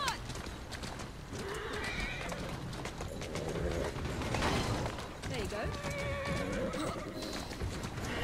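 Horses in the Assassin's Creed Syndicate video game whinny repeatedly while hooves clop steadily along a street, under continuous game bustle and people talking.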